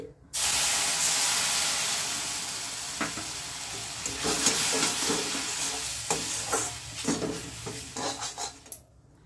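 Water poured into fried semolina in a hot pan for mango halwa bursts into a loud hissing sizzle that fades gradually, with spoon scrapes and stirring clatter later in the sputtering, close up and with no talking.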